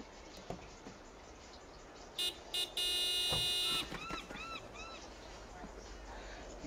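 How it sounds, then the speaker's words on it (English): A car horn in the Broken Sword 5: The Serpent's Curse adventure game sounds in two short blasts and then one longer sustained honk, followed by several quick bird-like squawks over faint background ambience. "do me a favor and honk the horn."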